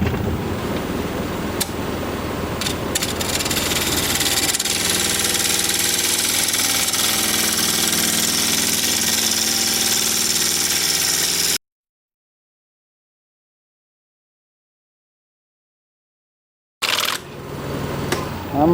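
A wood lathe turns a hard cherry plum bowl as a freshly sharpened gouge cuts at 1200 RPM: a steady motor hum with a hissing cut. It stops abruptly, then resumes briefly near the end.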